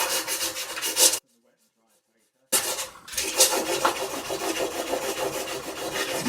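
A hand plane blade is rubbed back and forth on 360 grit abrasive, a close, gritty scraping that stops for about a second and then resumes in steady strokes.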